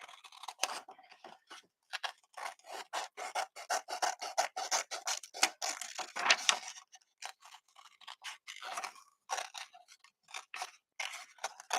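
Scissors cutting through material close by: a long run of quick, crisp snipping and rasping strokes, irregular in rhythm, with brief pauses between bursts.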